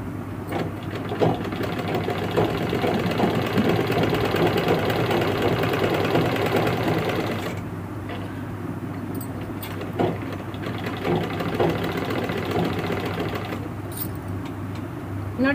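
A sewing machine stitches pants fabric in a tailoring class, a close continuous mechanical hum and rattle that runs for several seconds, then pauses and restarts in shorter runs.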